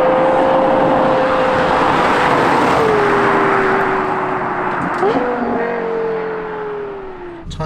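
A Lexus LFA supercar's engine drones steadily at speed, its pitch sliding down and then briefly jumping up with a gear change before easing off as it fades slightly near the end, loud and continuous with no talk.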